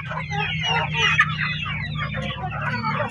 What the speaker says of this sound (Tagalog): ayan ang kapanok, yung ating mga alaga ito